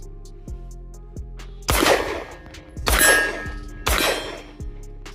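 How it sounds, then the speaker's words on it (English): Three loud, sharp gunshots from a Glock Model 45 pistol, spaced about a second apart with ringing tails, alongside fainter metallic clangs and pings of steel targets or brass throughout. "I put 3 rounds in each of their magazines, and I'm just gonna shoot them so we can see recoil impulse"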